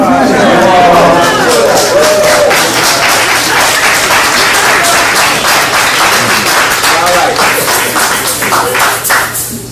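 Lecture audience at a talk on ancient Egyptian pyramid builders breaks into loud, sustained applause, dense clapping filling the room and tapering slightly at the end, with some voices mixed in.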